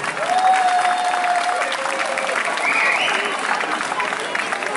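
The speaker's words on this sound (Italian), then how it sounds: "Un applauso forte! Più forte non si sente!" An open-air audience in a small town piazza claps steadily during an outdoor show, a continuous moderate applause with a few whistles and voices over it.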